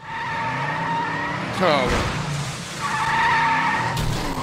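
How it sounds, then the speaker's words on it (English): A cartoon race car on a pace lap accelerates with skidding, squealing tires in two loud bursts, engine revving between them, with a voice speaking briefly over it. "I'm going to press the gas pedal, and I'm going to go forward."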